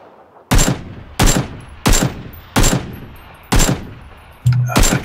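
Gunfire in the game PUBG: six loud, sharp shots at roughly even intervals, each with a ringing tail, plus a brief tone just before the last one.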